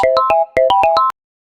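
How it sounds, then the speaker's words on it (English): A text message alert tone on a phone in the life-simulation game inZOI: two quick bursts of bright, melodic ringtone-style beeps, loud and clear, then silence. "At that same moment, Mom gets a text message."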